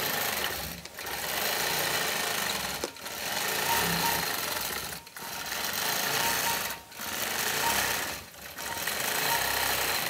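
A quilting machine in regulated mode sews 11 stitches per inch while freehand quilting a churn dash block. Its steady, loud mechanical stitching hum runs close up, stopping briefly about every two seconds before starting again.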